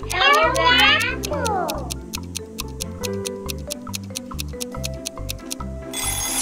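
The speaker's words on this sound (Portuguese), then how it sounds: "É o gato!" A cat meows twice, in quick rising and falling cries at the start, over bouncy, rhythmic children's music that keeps a steady ticking beat.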